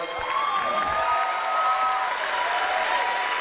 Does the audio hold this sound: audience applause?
yes